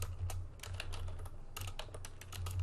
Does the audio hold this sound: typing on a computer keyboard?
yes